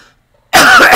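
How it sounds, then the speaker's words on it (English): A single sharp cough bursts out after a brief near-silence, loud and close. "I'm still coughing."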